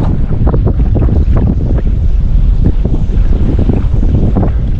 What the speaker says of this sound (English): Well, that wind blowing now,